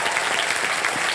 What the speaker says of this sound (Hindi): जोरदार तालियां बैंड के लिए।